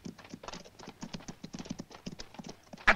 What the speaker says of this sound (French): Butch, voilà deux cavaliers qui arrivent